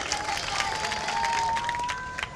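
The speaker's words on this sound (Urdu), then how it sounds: "ایک بار زوردار تالی بجائی تاکہ مجھے حوصلہ ملے" Audience at an Urdu mushaira poetry gathering in Sant Kabir Nagar breaking into loud, sustained applause, dense clapping filling the whole stretch with a steady crowd roar and no speech over it.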